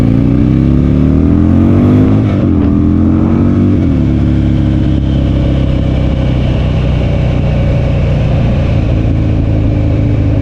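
Buell XB12X Ulysses motorcycle engine running loud and close, its pitch climbing as it revs, then dropping back and holding a steady rumbling drone.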